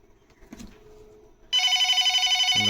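An incoming outside call on a Grandstream PBX line sets a telephone ringing: after a quiet lead-in with faint clicks, a loud electronic warbling ring starts abruptly and continues steadily.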